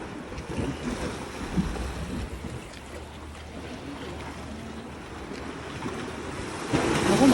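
Ocean waves washing in with a low rumble and hiss, wind over the microphone, swelling louder near the end, at a beach ahead of Hurricane Rafael.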